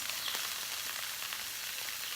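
Bread cheese frying in a hot pan that has been heating for about ten minutes, a steady, even sizzle with no talking.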